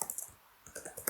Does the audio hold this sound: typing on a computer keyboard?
yes